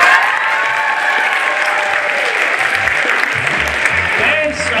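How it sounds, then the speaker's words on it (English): Applause from a school audience for a ninth-grade poet at a poetry slam, a dense, steady clapping with cheering that stays loud for the whole stretch. "Yes, applaud the poet."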